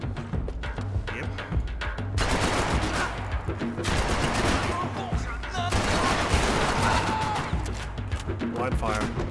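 Gunfire from the video game Max Payne 3, with sustained bursts of automatic shots and a fusillade that runs for most of the stretch over a low rumble. Someone talks briefly early on.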